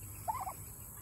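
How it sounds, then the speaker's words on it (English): A brief gobble from a turkey rattles out once, faint and somewhat distant against a quiet background, on a homestead with royal palm and white turkeys. "I've never raised turkeys before, and man, these turkeys."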